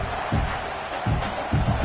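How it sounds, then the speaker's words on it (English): Stadium crowd roaring in College Football 26, Indiana against Nebraska, a broad continuous wash of cheering that swells in bursts, with no voices clearly on top. "The roar of the crowd trying to fuel this defense to keep them pinned in their own end."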